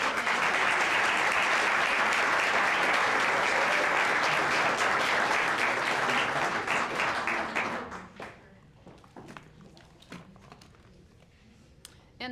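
Audience applause after an evening of speeches at the Windsor Shad Derby, a dense, loud sustained clapping that fades out after about eight seconds, leaving scattered claps and room noise.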